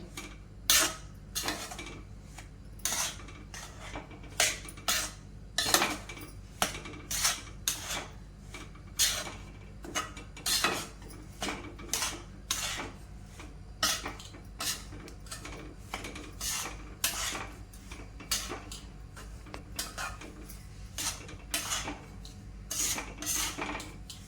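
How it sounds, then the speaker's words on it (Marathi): A spoon scrapes and clinks rhythmically against a pan as semolina is stirred together with powdered sugar, making steady repeated close strokes over a low background hum for the whole stretch. "आता आपल्याला याच्यामध्ये रव्यामध्ये पिठी साखर टाकायची आहे ही चांगली मिक्स करून घ्यायची आहे"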